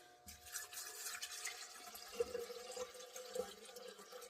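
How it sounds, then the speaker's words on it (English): Water pours into a Universal percolator coffee pot as a faint, close trickle with small splashes and gurgles, quiet and irregular. "Let's put some water in here. We're gonna make some coffee."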